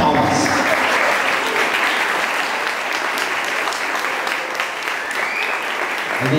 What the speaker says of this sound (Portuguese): A salva de palmas.